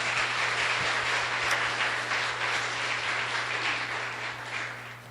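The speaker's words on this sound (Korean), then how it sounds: "우리 질문해주고 답변해주신 우리 패널들과 목사님들에게 박수해 주시기 바랍니다" Congregation applause at an Easter church service, a broad wash of clapping for panelists and pastors that stays fairly even and slowly softens, with a low steady hum beneath.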